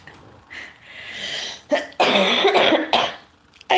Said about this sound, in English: I'm so sorry for snorting and coughing here all over the place